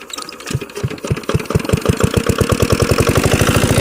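A shallow water pump engine, set up to draw water from a river, cranks over and fires, its irregular thumps quickly settling into a loud, rapid, steady chugging idle close by.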